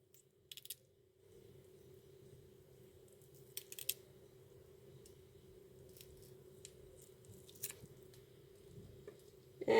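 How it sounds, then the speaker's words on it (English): Shrimp being peeled and cleaned with a fork, quiet close-up sounds of soft scraping and squishy shell cracking, with scattered faint clicks and taps over a low background hum. "going to use the fork today to clean off its skin, basically, shell, whatever."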